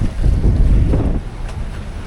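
Strong wind gusting across a sailboat on open water, a loud steady rush with low buffeting on the microphone, easing slightly toward the end.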